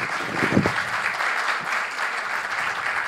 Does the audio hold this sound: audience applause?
yes